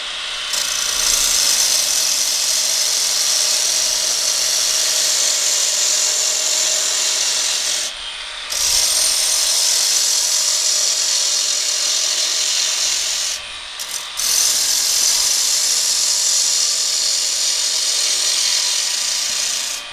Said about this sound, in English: So I'm just going to come in with another peeling cut.